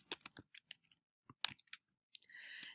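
A computer keyboard is typed on in short bursts of crisp clicking keystrokes separated by brief pauses, quiet and close, ending in a longer rattling run of keys.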